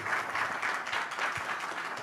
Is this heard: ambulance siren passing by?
no